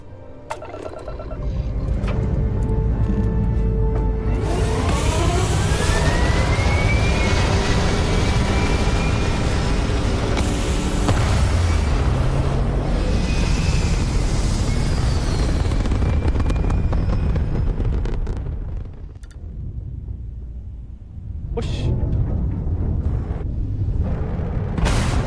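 A spaceship in Starfield lifting off, a long, loud rumbling roar with rising whine tones that builds and holds, then briefly drops away before resuming near the end.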